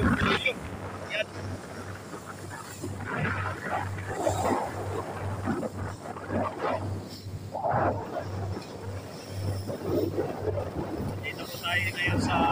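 On board the cargo ship EP Gladys, low engine rumble and wind buffeting the microphone run steadily beneath someone talking throughout.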